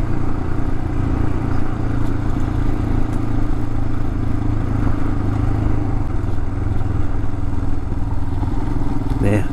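A motorcycle rides a mountain road in Georgia, its engine droning steadily and loudly throughout with a low, even hum and continuous wind rush, no clear speech over it.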